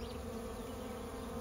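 A close, steady drone of Buckfast or Carnica honey bees buzzing continuously, a dense hum with no pauses or voices.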